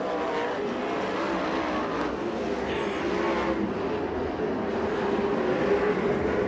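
USAC/CRA sprint cars on the final lap at Bakersfield, California, a steady dense engine roar from the track at a distance, continuous and moderately loud.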